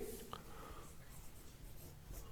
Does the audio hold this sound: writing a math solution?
yes